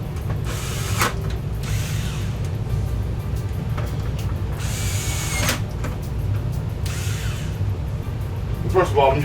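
Screws go into the back panel of an RCA LED55C5 LED TV in several short whirring, ratcheting bursts from a driver over a constant low hum.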